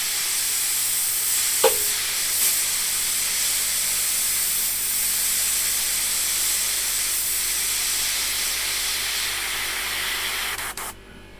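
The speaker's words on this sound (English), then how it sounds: "There you go, compressor's just come on." A quiet air compressor kicks in and runs as a steady, even hiss and hum that holds at one level the whole time, with a small click near the start and no talking.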